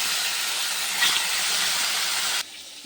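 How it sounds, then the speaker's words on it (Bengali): Bhetki fish frying in hot oil in a wok gives a loud, steady hiss of sizzling that runs without pause, then drops sharply quieter near the end. "কড়াইতে তেল গরম হয়ে গেছে, মাছগুলো একটা করে ভেজে নিই"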